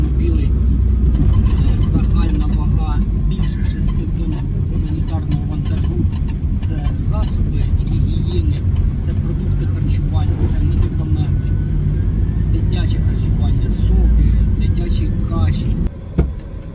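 Five volunteer cars travel together in a convoy carrying humanitarian aid toward Kupiansk, with a steady loud engine and road rumble running throughout under talk in the cabin.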